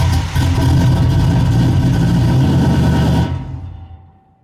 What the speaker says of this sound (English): Y'all want to hear a cold start?